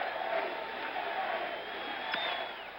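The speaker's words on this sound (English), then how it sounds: "Crowd is chanting" A large baseball stadium crowd at a 1977 World Series game between the Dodgers and Yankees chants Reggie, a broad, distant wash of voices that swells and holds steadily, with a brief sharp accent near the end.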